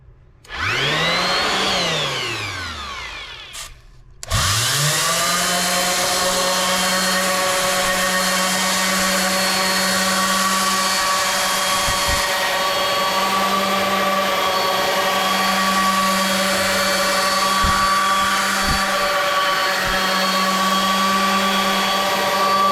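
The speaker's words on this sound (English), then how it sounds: "we're going to go ahead and get started on this hopefully not too long sanding process" After a brief motor spin-up and a stop, a power sander starts a continuous steady whine on the bottom of a Lodge cast iron skillet, starting with 80-grit paper, loud and close with occasional bumps.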